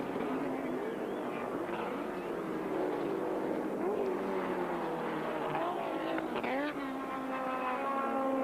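1983 Australian Touring Car Championship cars race along the long, fast back straight at Sandown. Engines roar continuously with rising and falling pitch as several cars pass, while a commentator talks over the noise.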